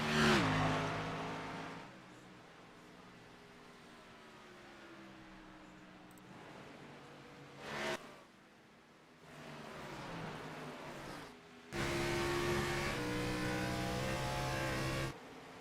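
Race cars lap a racetrack, their engines rising and falling in pitch as several cars pass close by in separate bursts with quieter gaps between them.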